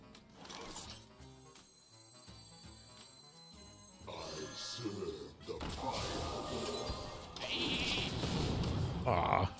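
A sheep bleats, summoned by a Polymorph spell in the Hearthstone card game. The bleat rises out of layered game music and effects, which grow louder and busier toward the end.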